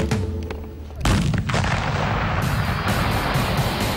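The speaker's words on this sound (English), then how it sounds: "take a stick of dynamite and a jerry can full of petrol and let her rip" A stick of dynamite and a jerry can of petrol blow up in one heavy, close blast, followed by a long, loud roaring rumble of fire and debris that carries on to the end.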